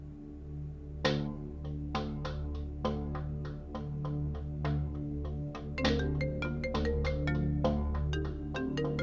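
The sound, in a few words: phone ringing unanswered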